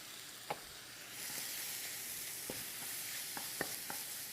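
Fresh chili goes into a hot pan for chicken and pineapple tacos, setting off a soft, steady sizzle after about a second, with a few sharp utensil clicks and taps over it.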